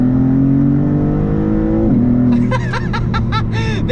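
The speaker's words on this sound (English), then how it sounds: "downshift a couple times, the shifts are violent, almost like a single clutch" A 2023 Maserati MC20 in manual Corsa mode downshifts violently. A loud, close engine drone drops and then rises in pitch, followed by a burst of rapid exhaust crackles and pops.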